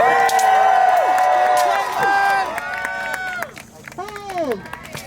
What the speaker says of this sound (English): let's give her a good cheer